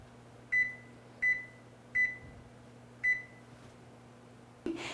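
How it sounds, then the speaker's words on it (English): Kitchen timer set while baking rustic artisan bread, giving four short, clear electronic beeps at even intervals against a quiet hum, followed by a soft clunk. "you're gonna set your timer for 30 minutes"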